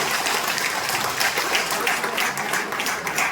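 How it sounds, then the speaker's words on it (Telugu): An audience at a seminar hall breaks into steady, dense applause, many hands clapping together at an even level throughout. "మీ సీనియర్కి ఒక్కసారి గట్టిగా క్లాప్ చేయండి"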